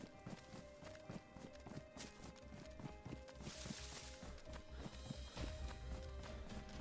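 Horse hooves clip-clop in a steady walking rhythm in the DayZ video game, with repeated close thuds continuing throughout and no talk.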